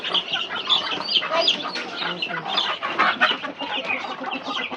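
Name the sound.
chickens clucking in the yard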